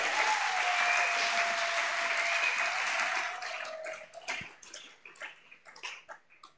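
Church congregation applauding the Lord Jesus at a consecration service, a dense, steady roar of clapping that thins after a few seconds into scattered, uneven claps with a faint sustained tone underneath.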